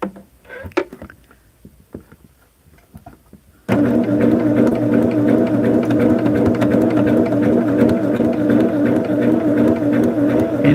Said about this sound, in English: I'm just sewing on the solid line that's printed on the foundation.